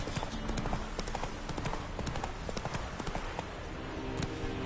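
Horse hooves galloping in The Witcher 3: Wild Hunt game, a fast continuous clip-clop rhythm, steady and fairly loud throughout with no speech over it.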